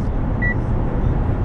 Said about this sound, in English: That little beeping noise, it's basically just telling me that I'm too close to another car